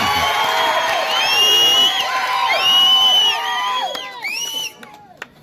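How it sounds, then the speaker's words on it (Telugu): Large crowd at a political rally in Nellore shouting, whooping and cheering loudly and continuously, with many overlapping voices that thin out toward the end. "మీ కేకలు మీకు అరుపులు చూస్తుంటే"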